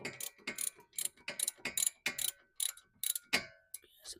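A hand ratchet tightens a front caliper bracket bolt on a car, giving a close, crisp run of rapid clicking bursts in an even back-and-forth rhythm.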